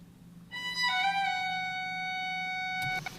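Embertone Friedlander solo violin sample library played with slur legato articulation: a few quick connected notes glide into one long bright sustained note, clean and alone, then a brief flick at the end.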